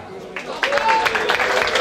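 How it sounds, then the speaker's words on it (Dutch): Applause for a bridal couple at a farmers' wedding celebration, a crowd clapping at moderate volume that swells after a quieter start and continues steadily, with a few voices audible underneath. "Heer een applaus voordat we beginnen voor dit broedspaar."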